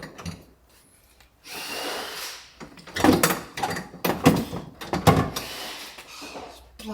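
Inside a Mercedes Sprinter camper van, a power tool backs out the front seat bolts. It comes in several short, loud, rattling bursts separated by brief pauses and quieter handling clunks.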